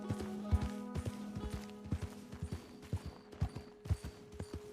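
Horse hooves clip-clopping at a steady walking pace in the video game Red Dead Redemption 2: regular, close hoofbeats over a low ambient hum, with no talking.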